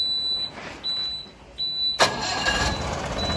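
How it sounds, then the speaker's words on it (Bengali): A newly delivered car gives a few high electronic chime beeps, then its engine cranks and catches abruptly and settles into a close, steady idle. "ইঞ্জিন সাউন্ডগুলো একদম দেখতে পেয়েছেন কত সুন্দর ইঞ্জিন আওয়াজ"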